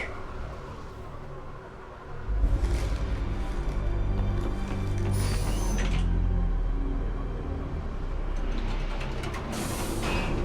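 An elevator in Mass Effect 3 climbs a shaft with a loud mechanical creaking and grinding rumble that starts abruptly and continues steadily, with metallic squeals rising over it.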